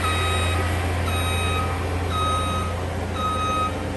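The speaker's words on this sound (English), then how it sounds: "Okay, we got a construction truck going by." Reversing beeps from a construction truck, four evenly spaced electronic tones over a steady low engine rumble and background hum, moderately loud with no talking.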